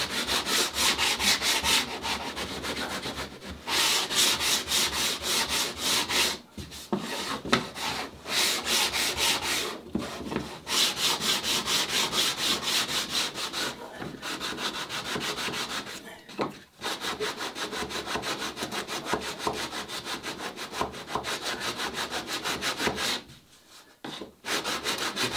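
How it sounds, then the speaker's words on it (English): Hand sanding on the wooden interior of a Catalina Wherry rowing boat under construction, a steady back-and-forth rasping of sandpaper on wood that runs nearly continuously, close and fairly loud, with a few short pauses between strokes. "Just finish up with a little sanding."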